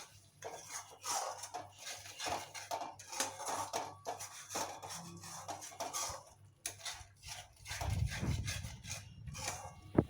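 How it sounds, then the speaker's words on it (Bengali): Masala with salt and a little sugar being stirred and fried in a pan for paneer masala, a steady scraping and clinking of a spoon against the pan with soft sizzling, moderately close. "আর অল্প একটু চিনি দিয়ে মশলাটা আবারও ভালো করে কষাবো।"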